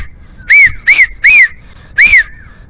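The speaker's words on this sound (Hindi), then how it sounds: "सीटी कैसी थी?" Four short, loud rising-falling whistles from a person, evenly spaced over a couple of seconds and standing clear of faint background noise.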